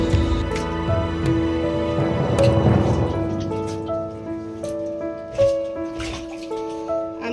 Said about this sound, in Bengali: চিকেনটাকে ভালো করে ধুয়ে আমি পরিষ্কার করে নিচ্ছি